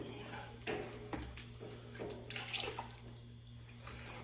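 Liquid drips and trickles from a quick fill station on a truck rig into a bucket, with irregular close splashes and drops over a low steady hum.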